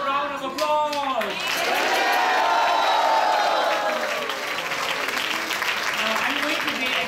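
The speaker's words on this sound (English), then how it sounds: "Can we have a loud round of applause?" Loud audience applause fills a hall at a Janmashtami Gita reading, with cheering and voices mixed into the sustained clapping throughout.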